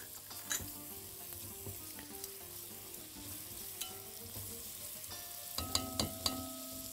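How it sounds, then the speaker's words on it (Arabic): Onion sautéing in hot oil for spinach soup, a soft continuous sizzle close by with a few sharp clinks of a spoon against the pot toward the end, no voices. "اول ما نسمع الصوت ده نعرف على طول ان ايه البصل هيتشوح اول ما ينزل في الزيت"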